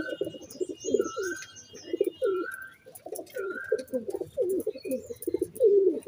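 A Jiriya Madras pigeon coos close by in repeated throaty, rolling phrases, with small chirps from other birds in the background.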